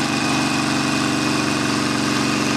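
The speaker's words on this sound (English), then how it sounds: "the throttle response down low isn't quite as smooth as some of the other Harleys I've ridden" A Harley-Davidson XL1200 Forty-Eight V-twin runs at low throttle, a loud, close, continuous rough rumble with an uneven pulsing beat and no talking over it.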